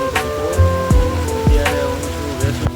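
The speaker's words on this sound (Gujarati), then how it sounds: "અહીંયા તો વરસાદ ચાલુ થઈ ગયો" Rain falls on a roadside, a steady pattering hiss mixed with passing street sounds and brief swooping tones.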